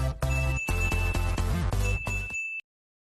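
A notification bell chime sound effect plays a bright, tinkling jingle of several quick rising ringing notes with a sustained high tone, ending abruptly into silence.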